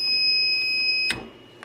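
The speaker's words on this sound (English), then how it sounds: "the motherboard's connected, the buzzer's going off, and there's no input I can do" An Ender 3 3D printer's motherboard buzzer sounds a loud, steady electronic tone during a fault as the machine smokes, holding for about a second before cutting off abruptly.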